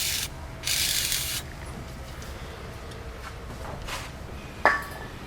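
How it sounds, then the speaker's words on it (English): Short bursts of D40 penetrating lubricant sprayed onto parts of a Mazda 626 near the vehicle speed sensor, with a steady hiss near the start followed by a fainter burst and a brief metallic click. "Recommend you to spray everything with D40."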